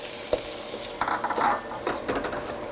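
Bok choy is tossed into a hot pan, giving a short burst of sizzling with clinks and scrapes of a utensil against cookware, close and moderately quiet.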